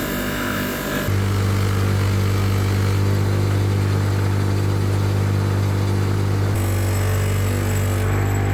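A KTM EXC dirt bike engine fitted with a shortened exhaust pipe idles loudly nearby with a steady deep drone, its note shifting near the end as the throttle changes.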